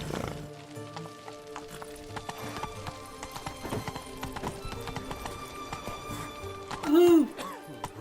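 Roach the horse gallops in The Witcher 3, with steady rapid clip-clop hoofbeats throughout and a short whinny near the end, under sparse talk and game music.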